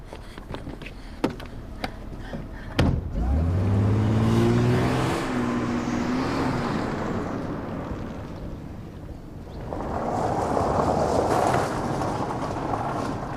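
A car pulls away after a door slam, its engine rising in pitch as it accelerates, then holds a steady loud drone with wind rush as it drives off.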